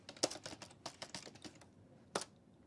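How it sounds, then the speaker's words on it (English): Computer keyboard being typed on in quick irregular bursts of clicky keystrokes, close and fairly quiet, then a pause and one final sharp key press, with no talking. "is this my stupid keyboard again?"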